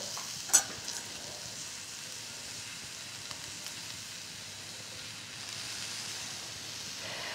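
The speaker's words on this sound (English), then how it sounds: "you can hear that sizzle." Mushrooms sizzle softly in a pan under a steady frying hiss, with an occasional scrape from stirring, quiet and close with no voices.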